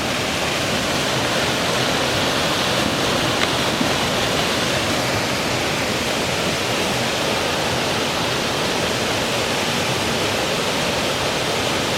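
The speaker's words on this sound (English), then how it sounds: "Our second time to pass through this waterfall, going back to our car. But this one was called Buttermilk Falls" Buttermilk Falls, a waterfall beside the Delaware and Lehigh River Rail Trail, roars in a steady, dense rush of falling water that stays loud and unbroken throughout, with no voices.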